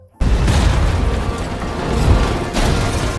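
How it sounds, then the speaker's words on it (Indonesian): A loud, sustained explosive roar with dense low rumble, swelling again near the end, with no voices. "akhirnya salah satu mobil musuh pun meledak"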